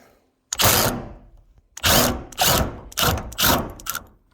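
A power tool on an extension spins out the last fender bolt on a 1994 Ford Ranger being repaired after a deer strike, giving four or five sharp close whirring bursts separated by brief pauses.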